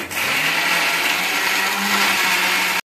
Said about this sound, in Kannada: ಇದನ್ನು ಮತ್ತು ಪುದೀನ ಸೊಪ್ಪು ಮಸಾಲ ರುಬ್ಕೊಳ್ಳೋಣ